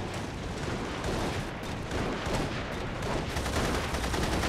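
Dense bursts of gunfire rattle through a firefight in The Saboteur, rapid overlapping shots and booms forming a continuous loud barrage with no pauses.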